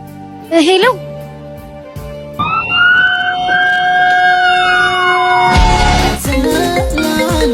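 An emergency siren wails loudly and close, a sustained rising and falling tone over several seconds, with voices speaking before and after it.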